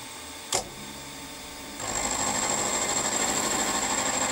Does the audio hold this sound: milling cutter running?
yes